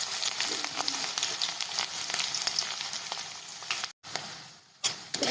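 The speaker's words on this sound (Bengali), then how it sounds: "পেঁয়াজগুলো ভাজা হয়ে গেছে" Chopped onions sizzle and fry steadily in hot oil with bay leaf, dried red chilli, cardamom, cinnamon, cloves and black pepper, a close continuous crackle with a brief drop to near silence before the sizzling resumes.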